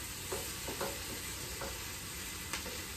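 Butter melts in a pot for creamy corn chowder with a soft, steady sizzle and a few light scrapes of a spoon, quiet and close, with no talking.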